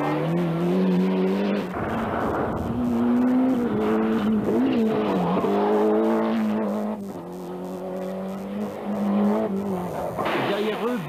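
A rally car at the 1993 Rallye du Rouergue stage from Roquefort toward Rodez screams through rising and falling engine revs with gear changes and tire squeal, loud and close, under a commentator's voice.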